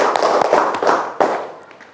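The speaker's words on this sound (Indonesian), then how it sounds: "tepuk tangan untuk kelompok kinestetik" Classroom applause for a student group at an elementary school, a burst of quick, uneven hand claps close by that swells then thins out over about two seconds.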